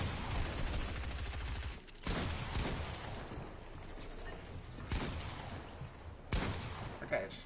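Gunfire in a fast online shooter game: loud, sharp shots in rapid bursts over dense game noise, with a few abrupt cuts and a final flurry of fire.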